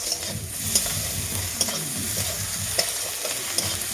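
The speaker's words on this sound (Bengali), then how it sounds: "আদাটাও ভালো করে ভেজে নিতে হবে" Ginger paste frying in oil gives a constant sizzle, with a spoon scraping the pan at regular intervals, close and moderately loud.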